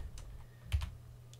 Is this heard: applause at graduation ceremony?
no